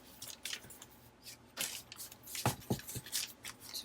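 Paper torn by hand to size for a handmade Holly Hobbie journal: a series of short, crisp ripping and crinkling bursts, close and fairly quiet, with no talking.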